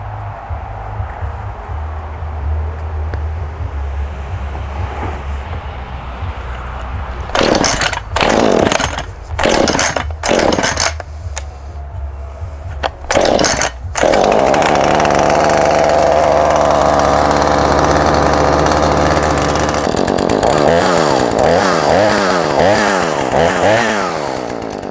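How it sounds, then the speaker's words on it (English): A freshly tuned-up, primed and choked chainsaw putters, then gets several short revving pulls and bursts, then settles into a loud, steady run with throttle swells near the end. "I will start it up and we'll see how it runs."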